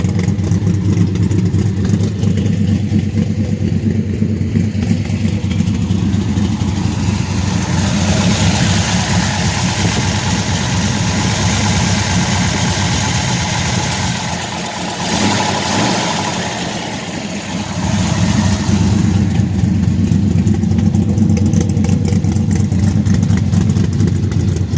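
A 1970 car engine fitted with an 850 Holley carburetor idles while warming up, a loud steady low rumble close by, briefly dipping in the middle before returning to a constant idle, with no talking.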